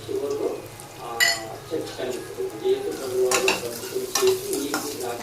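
Turmeric, chili powder and salt hit hot oil in a pan for a Telugu banana curry, with a steady sizzle, metal spoon scrapes and clinks against the pan, and a few soft voices underneath.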